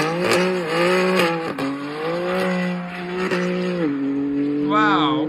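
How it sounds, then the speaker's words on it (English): A BMW M4 engine roars and revs with sweeping pitch changes as it does donuts and drifts, broken by a tire squeal near the end, loud and close. "Now I want to show you amazing donuts and drift and acceleration with previous car BMW"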